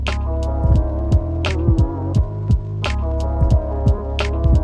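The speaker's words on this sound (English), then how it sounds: "This pitch distortion is insane." Heavy distorted MPC beat run through a Flavor Pro pitch distortion effect, with booming pitch-bending bass kicks thumping in a steady rhythm over a sustained droning tone and crisp hi-hat ticks, loud and close, no voices.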